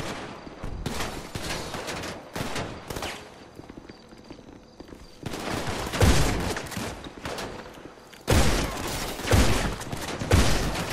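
Bursts of gunfire in GTA 5 crackle in irregular volleys, some rapid and dense, others scattered, loud and near, with a quieter stretch between the heavier bursts.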